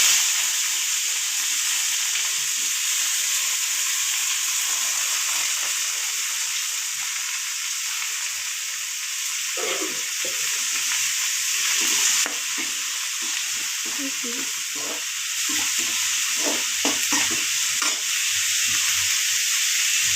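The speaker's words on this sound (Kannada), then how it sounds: "ಸಾಸಿವೆ ಹಾಕ್ತಾಯಿದ್ದೀನಿ, ಕರಿಬೇವು, ಕಟ್ ಮಾಡ್ಕೊಂಡಿರೋದು ಈರುಳ್ಳಿ ಹಾಕ್ತಾಯಿದ್ದೀನಿ." Mustard seeds, curry leaves and chopped onion fry in hot oil, giving a steady loud sizzle with occasional stirring scrapes near the end.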